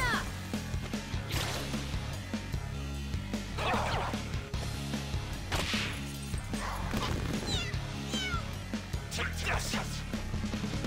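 A cat cries and meows as it is struck in the Persona 5 Royal video game, short yowls mixed with smacks, clanks and layered game music, fairly loud and busy throughout.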